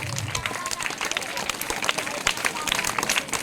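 Applause and clapping for an award-winning team of students at a school academic excellence award ceremony, a steady dense patter of many hands filling the hall, with crowd murmur and voices underneath.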